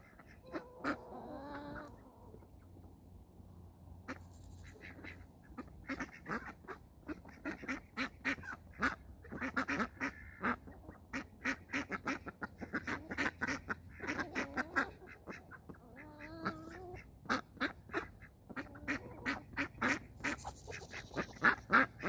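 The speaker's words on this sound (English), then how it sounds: "Now it's on to feeding the ducks." Homestead ducks quack repeatedly at feeding time, a busy stream of rapid overlapping honks and calls that grows denser and louder toward the end, heard fairly close with no talk over them.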